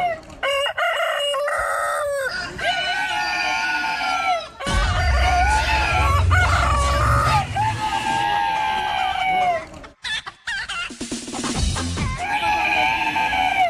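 A man at a street stall selling rooster candy imitates a rooster crowing, loud and close. He gives several long, strained crows separated by short gaps, with some voices mixed in.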